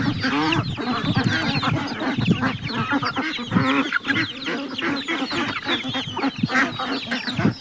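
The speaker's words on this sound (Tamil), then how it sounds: "வாத்தும் கோழியும் எவ்வளோ அழகாக ஷேர் பண்ணி சாப்பிடுது." A busy flock of chickens clucks nonstop up close while feeding alongside ducks, mixed with occasional honking duck calls, no voices.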